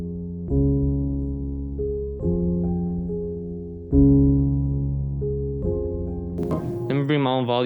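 Sustained piano chords in an FL Studio beat, processed with a Gross Beat half-speed effect, ring out loud in repeating sections, and a warbling high synth sweep enters near the end.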